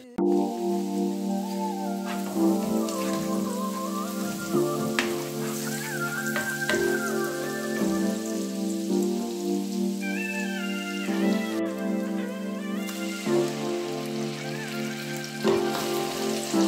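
Fish fries in a pan at home, giving off a continuous crackling sizzle with music playing over it. The sizzle stays steady and moderately loud from start to finish.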